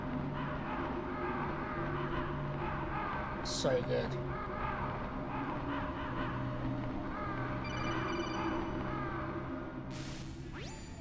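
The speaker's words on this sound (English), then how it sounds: "just the foreboding, the crows, or the ravens" Foreboding ambience in Metal Gear Solid on PS1 with distant crows or ravens cawing in repeated calls, someone talking over it throughout and a sharp whoosh and chime breaking in near the end.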